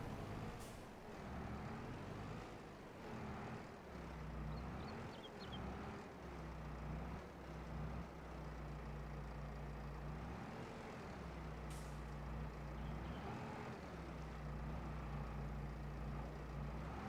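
Truck backing up in the video game Farming Simulator 22 on the Erlengrat map, a steady low engine rumble with hissing air-brake bursts, continuous and fairly close.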